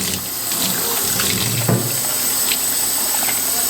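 Parts of a Karcher KC5 hard floor cleaner are rinsed under a running tap, a loud, steady rush of close water with faint splashes and clatter.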